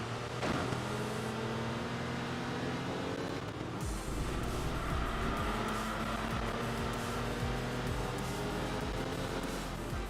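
Rival tuned four-wheel drive race cars in Enthusia Professional Racing roar along together, a steady, loud engine drone with shifting pitch carrying unbroken for about ten seconds, with no talking.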